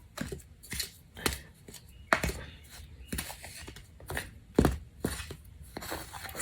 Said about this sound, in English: And then I'm just going to mix this up with my knife.